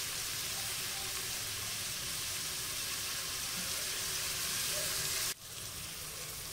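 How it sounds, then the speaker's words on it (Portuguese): Onion, garlic and bell pepper frying in a pan for a Brazilian bean stew, a steady close sizzle that cuts off abruptly near the end, then resumes more quietly. "Vamos deixar murchar um pouquinho a cebola. Dourar um pouquinho o nosso alho e cozinhar o pimentão"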